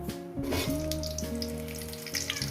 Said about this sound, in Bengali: আর জিরে কয়েক ভেজে নেব এবার দিয়ে দেবো আলু